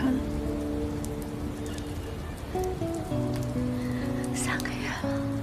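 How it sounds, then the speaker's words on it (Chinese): Soft rain falls steadily as a faint, even patter on a surface, heard quietly under music and occasional voices. "这雨真好"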